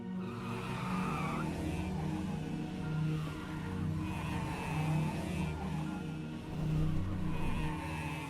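A racing vehicle takes off in a cartoonish Super Mario race sound effect, a loud sustained engine roar mixed with screeching tire squeal that rises and swells in waves over several seconds.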